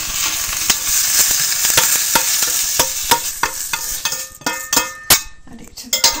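Chicken goes into a hot frying pan for a chicken, chickpea and spinach dish, with a steady close sizzle under a run of sharp stirring scrapes and clinks of a utensil against the pan.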